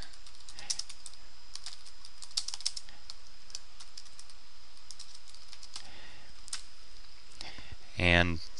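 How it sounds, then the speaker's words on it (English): Someone types a message on a computer keyboard, a quick run of close, light key clicks over a faint background hiss, with a louder brief sound at the end. "In this case, you just type in the message."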